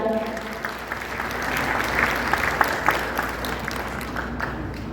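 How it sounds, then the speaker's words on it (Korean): Sustained audience applause fills a hall during the opening ceremony of a table tennis tournament, a dense steady patter of many hands with a few sharper claps standing out, continuing at even loudness throughout. "다시 한번 큰 박수 부탁드립니다."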